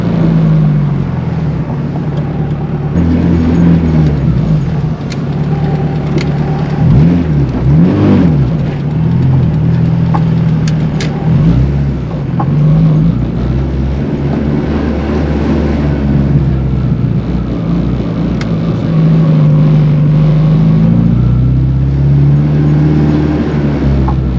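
Honda Accord, an all-wheel-drive model with a single muffler, drones and rasps steadily while driving uphill, loud and continuous with engine pitch rising and falling; no talk.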